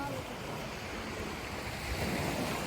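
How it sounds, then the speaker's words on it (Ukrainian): Steady stormy sea waves in Montenegro wash and surge in a continuous rushing roar, with wind buffeting the microphone and no one speaking. "послухайте трохи звук моря"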